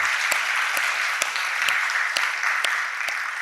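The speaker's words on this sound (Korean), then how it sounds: "우리 박수로 한번 격려를 부탁드리겠습니다" A church congregation claps together in steady, continuous applause at moderate distance, with a few sharper individual claps standing out, and no talking over it.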